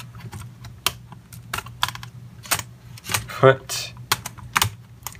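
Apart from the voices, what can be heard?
typing on ThinkPad T470s laptop keyboard to test it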